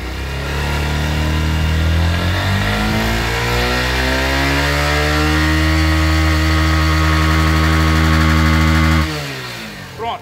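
Motorcycle with a charging-system fault that overcharged and damaged a new battery. The engine starts, climbs steadily in revs, then holds a loud, close, high steady drone before cutting off abruptly near the end, with no talking.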